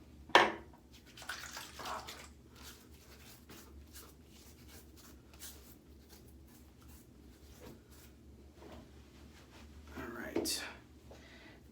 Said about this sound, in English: take the bloomin' water from this soap bowl here and hydrate my beard